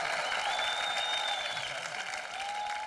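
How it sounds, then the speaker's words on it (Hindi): Studio audience at a comedy show applauds the arrival of film stars, a continuous, even wash of clapping for about three seconds with a faint tonal whistle or cheer above it. "जोरदार तालियां"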